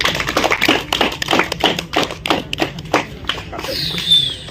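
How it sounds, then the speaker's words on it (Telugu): Hands clapping in a classroom English quiz, a run of quick, close claps in irregular bursts, with a brief voice near the end. "క్లాప్స్ కొడుతుందమ్మా"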